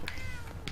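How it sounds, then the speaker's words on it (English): A cat in Fallout 4 gives a single short, clear meow, close and moderately loud, with no talking. "there's a cat there."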